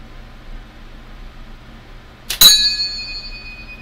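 A single sharp metallic ting as a shot strikes a hard drive platter target, a bright ringing that decays over about a second against quiet outdoor background.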